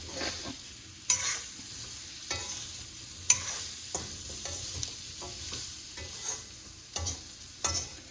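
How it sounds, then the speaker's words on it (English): A vegetable mix with pumpkin is stirred and sautéed in a pan: a soft, steady sizzle runs underneath, broken by repeated sharp spatula scrapes and clanks against the pan at irregular intervals. "I'm going to mix all of this and now saute it"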